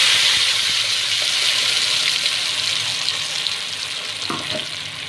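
Ground masala paste for vatha kulambu frying in a pan, giving a steady, loud, close sizzle with faint stirring scrapes and clinks near the end, no voices.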